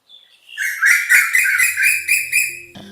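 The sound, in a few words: Asian koel bird call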